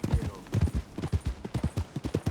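Horse hooves clip-clopping at a run in the open-world Western game Red Dead Redemption 2, a steady close rhythm of repeated thudding beats heard alone with no talk.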